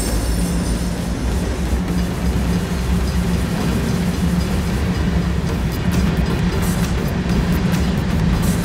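A freight train rolls past close by, with a loud, continuous rumble of wheels on rails and a faint squeal toward the end.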